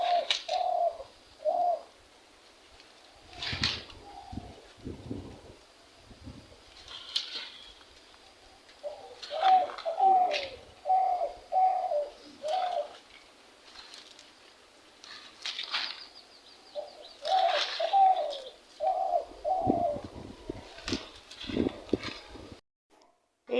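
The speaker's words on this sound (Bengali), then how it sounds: "রুমের থেকে একটা পাখির ডাক শুনতে পাচ্ছি" A bird calls from a rooftop in repeated short bursts of soft cooing, separated by pauses, against a quiet background with faint scattered knocks.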